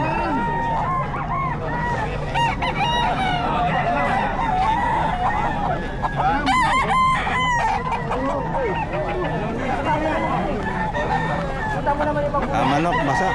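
Roosters crow repeatedly amid clucking chickens, a busy flock sound mixed with murmuring voices and talk in the background.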